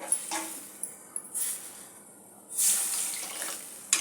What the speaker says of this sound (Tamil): தேவையானது கொஞ்சம் தண்ணி சேர்த்துக்கலாம்.